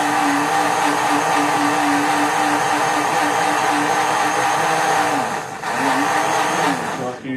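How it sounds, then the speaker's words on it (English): A kitchen blender runs continuously with a one-dollar bill inside, a loud steady motor whine with churning rattle that dips briefly near the end before resuming. "All right, let me turn on the blender."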